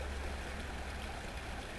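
A small creek flows in a woodland setting, giving a steady, close rushing and babbling of water that holds even throughout, with no voices.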